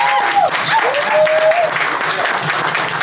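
A live poetry open-mic audience bursts into sustained, loud applause, dense clapping filling the room with a few whoops and cheers rising over it.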